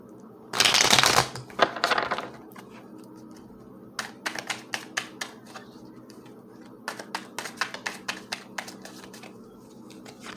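Light Seers Tarot cards riffled in a loud, close burst, then a second shorter shuffle, followed by scattered rapid clicks of cards being handled and flicked.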